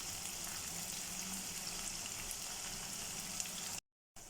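Sliced onions fry in a pan for Kashmiri chicken masala with a constant, fairly quiet hiss and sizzle, heard close and without talk, before it cuts out briefly near the end.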